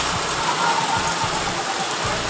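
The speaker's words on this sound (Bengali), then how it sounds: "এই দেখো প্রচণ্ড জোরে বৃষ্টি হচ্ছে" Heavy outdoor rain driven by stormy, gusting wind soaks patio chairs. It makes a loud, steady wash of hiss with low buffeting thumps from the wind throughout, and no one speaks.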